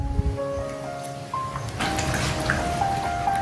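Tap water runs while fish is washed under it in a kitchen sink, a soft splashing flow that starts partway in and continues at close range.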